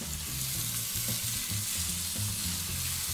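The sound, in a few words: Ibaïona pork sizzling in a cast-iron pot on induction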